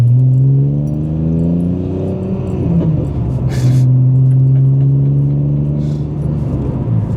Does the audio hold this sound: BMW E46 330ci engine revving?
yes